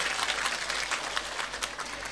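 A crowd applauds steadily at a religious gathering, dense even clapping that holds at the same level throughout without pause.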